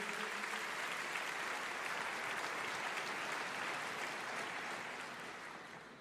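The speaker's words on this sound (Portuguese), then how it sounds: "aplauda o teu Senhor" A church congregation applauds together in a dense, steady wash of clapping that holds evenly and then starts to fade near the end, with no voices over it.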